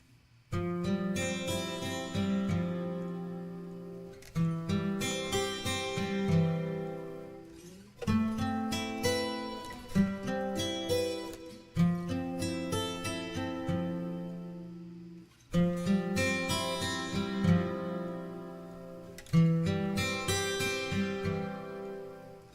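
Double-tracked acoustic guitars overdubbed in stereo, strummed chords ringing out in clear phrases with sharp attacks every few seconds, played alone with no voice.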